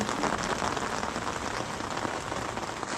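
Steady rain falls at night in Nicaragua, a dense, continuous hiss of drops on surfaces that holds at an even loudness throughout without pause.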